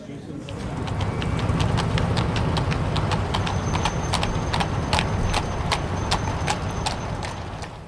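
Horses walk with steady, evenly spaced hoof clip-clops, many hoofbeats overlapping at moderate loudness, over a low rumbling background that continues throughout.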